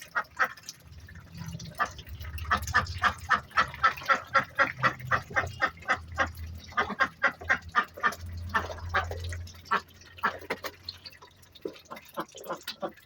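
Domestic ducks being fed, a lively run of rapid quacks and honks close by, repeated in bursts over several seconds with a soft low rumble beneath.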